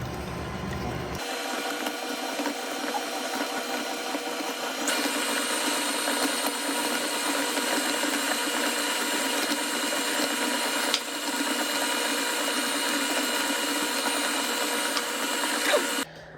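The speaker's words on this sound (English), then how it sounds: "I'm going to turn this up a little bit longer, higher, and we're going to wait for 1 minute" A stand mixer with a paddle attachment mixes dry ingredients for multigrain sandwich bread. Its motor drones steadily up close, steps up to a higher speed after a few seconds, then cuts off at the very end.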